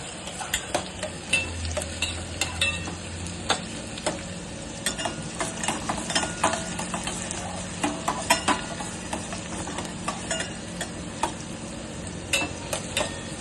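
Onions fry and sizzle in a hot pan for Kolhapuri chicken rassa, with a steady crackling hiss and frequent scraping stirs of a spoon against the metal. The sound is close and continuous, and no one speaks.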